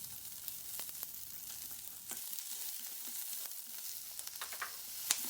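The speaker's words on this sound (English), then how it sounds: "heat up the wok with some oil to stir fry the vegetables, starting with the onions first" Onions stir-frying in hot oil in a wok, a soft hissing sizzle with scattered crackles and occasional stirring scrapes, fairly quiet and steady with no talking.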